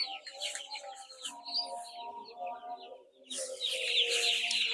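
Broiler chicks in a poultry shed chirping continuously, a busy overlapping chorus of high peeps close by that grows louder toward the end, with no talk.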